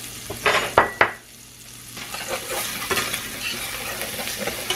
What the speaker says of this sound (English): Go ahead and toss in your garlic. This is like 2 large cloves of garlic.